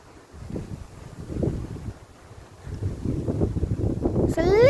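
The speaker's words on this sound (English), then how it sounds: "It's a little bit windy today, but it's dry." Wind gusting by the River Thames near Canary Wharf on a dry, sunny day, a steady low rumble of buffeting that swells toward the end, with a voice talking over it throughout.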